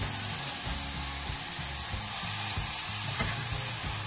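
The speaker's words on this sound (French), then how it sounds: "Je vais mettre dans la poêle qui est déjà chauffée." Goat meat sears in a preheated pan with no oil or water. A continuous, loud, close sizzle crackles steadily throughout, with no voices.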